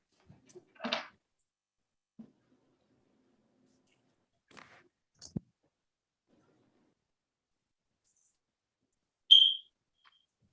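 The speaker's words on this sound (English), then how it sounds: "Sorry about my fire alert, my smoke detector." A smoke detector giving a low-battery alert, a single short, sharp chirp heard once against near silence, with a few faint soft knocks and bumps before it.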